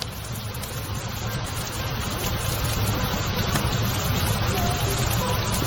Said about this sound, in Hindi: बारिश अभी भी नहीं रुकी।